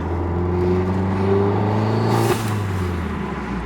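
A big-turbo 2015 VW Golf GTI accelerates with wheel spin, a loud steady engine drone rising in pitch from inside the car, cut briefly by a gear change.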